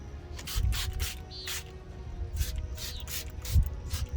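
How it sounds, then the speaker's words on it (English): Quick repeated hisses of a spray bottle misting soapy water onto a Jeep, several short bursts in an uneven rhythm over low background rumble. "spray the vehicle down with that soap water"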